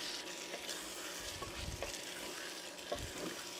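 Thai Panang curry being stirred and scraped in a pan over medium heat: a faint, low sizzle under soft, intermittent scraping strokes, with no voices.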